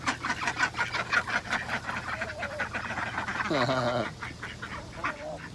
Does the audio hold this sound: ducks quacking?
yes